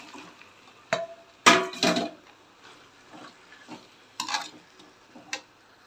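Chicken pieces going into a pan of sautéing curry masala, a few loud clattering sizzles and scrapes spaced out over a low background hiss.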